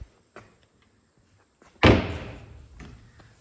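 A wooden door on a homemade chicken brooder swings shut with one sharp, close knock, followed by a short rattling decay and a faint tap afterward, set against quiet room background.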